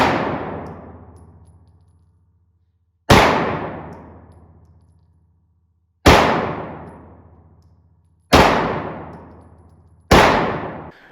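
SIG P320 Legion pistol fired at a range: five loud, sharp shots with irregular gaps of two to three seconds, each ringing and decaying before the next.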